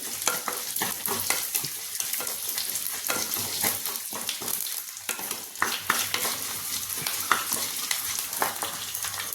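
Garlic sizzles in hot oil with curry leaves, a busy crackle of small pops and spatters over a continuous frying hiss, with occasional stirring scrapes and no talking.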